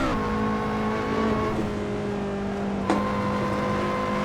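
A Lotus Exige Scura engine in Assetto Corsa holds a steady high drone under throttle, with one brief gear-change blip midway before the tone settles again, loud and continuous.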